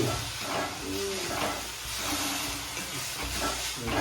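Tomatoes hit a hot pan for Kathiyawadi olo, giving a steady, close hiss and sizzle that carries on for a few seconds, with faint movement in the pan.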